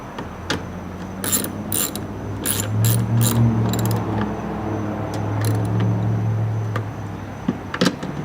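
A ratchet tightens the taillight fasteners on a Lexus IS300 during LED taillight installation, with quick bursts of clicking spread over a steady low mechanical hum, close and fairly loud.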